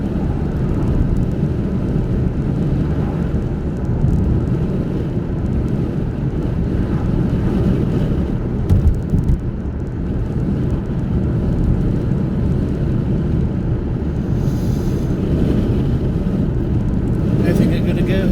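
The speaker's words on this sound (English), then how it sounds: "It's a bit blowy, as you can probably hear, a bit windy." Heavy low rumbling buffets of wind hitting the microphone, steady and continuous for the whole stretch, with no clear voices above it.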